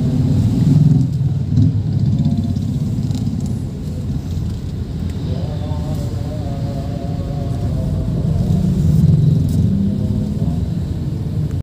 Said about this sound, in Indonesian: Nah, trafiknya seperti ini,